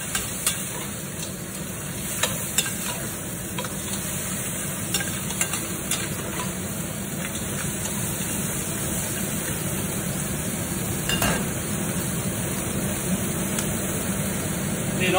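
A chilli crab mixture with garlic frying in a pan gives a steady loud sizzle, punctuated by stirring scrapes and sharp clicks in the first seconds, close and continuous.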